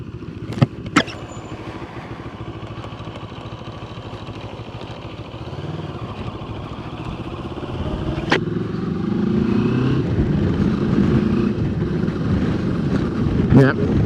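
A Moto Morini motorcycle rides over bumpy ground, its engine a steady drone that grows louder and rougher, with wind buffeting the microphone and a few sharp knocks from the uneven terrain.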